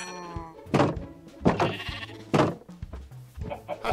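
Minecraft sheep bleating in the video game, several short separate bleats spaced about a second apart, close and clear over a quiet background.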